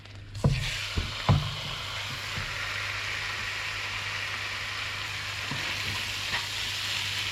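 Kidney browning in a hot frying pan with fat, giving a steady close sizzle throughout and a few sharp crackles and pops near the start, no voices.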